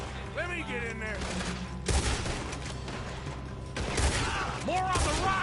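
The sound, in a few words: gunfire in a shootout, from video game Red Dead Redemption II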